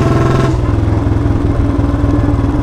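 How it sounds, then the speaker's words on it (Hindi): Royal Enfield Bullet 350 BS4 with a C-bend pipe and long punjab-style exhaust, loud and close, its thumping single-cylinder exhaust note breaking into rough popping crackles of backfire at low revs. "इतना ज्यादा लाउड बैक फायर, बाप रे बाप।"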